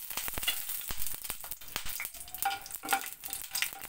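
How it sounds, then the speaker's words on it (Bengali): Cumin seeds and a halved bay leaf fry in hot oil, giving a steady close crackling sizzle with sharp pops scattered throughout, no voices. "ফোড়নটা আমার ভাজা হয়ে গেছে।"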